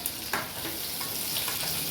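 Chopped onions sautéing in a pan for Tamil-style onion chutney, a steady soft sizzle and frying crackle with a brief stir, close and continuous with no talk.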